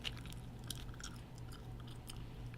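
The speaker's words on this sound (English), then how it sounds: "I probably am gonna have to find some better chewing gum," Gum is chewed close to the microphone, giving soft, moist smacking and clicking sounds in an irregular rhythm against a quiet low hum.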